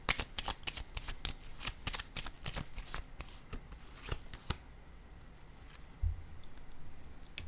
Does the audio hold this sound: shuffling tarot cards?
yes